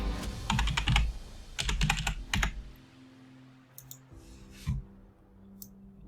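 Fingers type on a computer keyboard while making printable bookmarks in Canva. Quick clusters of crisp, close keystrokes come first, then a few sparse, fainter clicks in a quiet room.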